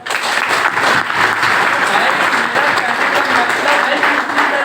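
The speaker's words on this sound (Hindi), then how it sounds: "बजाइए तालियां" A large audience at a Hindi-language motivational meeting breaks into loud, continuous applause, many hands clapping densely and evenly from start to finish with crowd murmur underneath.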